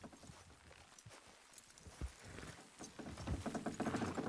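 Horse hooves clip-clop in a slow walk within Red Dead Redemption, a handful of soft uneven steps that grow denser and louder toward the end among light in-game ambience.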